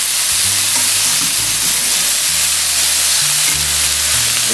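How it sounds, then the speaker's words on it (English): Hot peppers and vegetables being stirred in a cooking pot over a steady, continuous sizzle of frying, with low rumbling scrapes rising and falling as the spoon moves, close and loud throughout. "So I'm going to stir it in real good."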